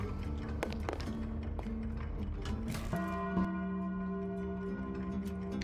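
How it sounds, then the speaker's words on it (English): A bell struck inside the video game PowerWash Simulator rings out with a sustained, ringing tone about halfway through, preceded by clattery game noise and lingering as it decays. "Tarny, hit the bell."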